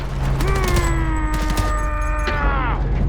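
Dense gunfire from a fight in the shooter game Homefront: The Revolution rattles continuously under a loud sustained tonal drone, with a voice shouting briefly over the battle.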